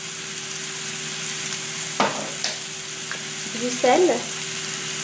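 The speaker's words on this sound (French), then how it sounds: "je vais faire revenir tous les légumes" Vegetables sautéing in olive oil in a pan give a soft, steady sizzle, with a couple of sharp utensil clicks and brief stirring rustles, while a voice speaks a few words.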